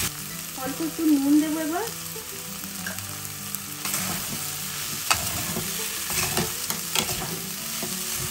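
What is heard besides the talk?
stir-frying capsicum and onion for chicken kathi roll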